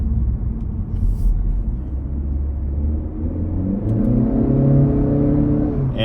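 A 2019 Honda Accord sedan accelerates hard, its engine rumble rising steadily in pitch from inside the cabin, loud and continuous without talk.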